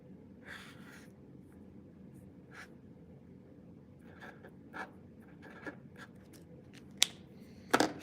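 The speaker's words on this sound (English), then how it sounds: "Okay, we're gonna draw that." Drawing on paper with art supplies: faint, scratchy strokes come in short intermittent bursts over a low steady background hiss, with a couple of sharper ticks near the end and no talking.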